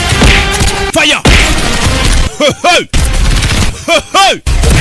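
Movie gunfire between Indian and Pakistani soldiers, loud bursts and booming shots with whistling, swooping ricochets, several volleys separated by short gaps, close and dominant.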